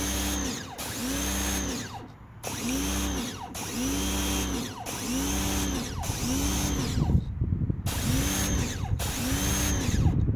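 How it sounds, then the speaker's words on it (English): Parkside PHDS 110 A1 Silent pressure washer running with its variable nozzle: a loud motor drone and spray hiss under a regular pulsing whine that repeats roughly every second, broken by a few short pauses. "And the sound you can hear when working with Parkside."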